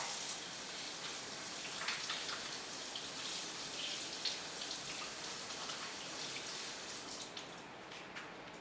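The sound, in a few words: hands washed under running sink tap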